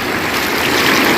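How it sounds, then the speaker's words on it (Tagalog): Rushing river water during a crossing, a steady, broad wash of flowing water close by with no voices. "Ngayon tatawid din ng ilog."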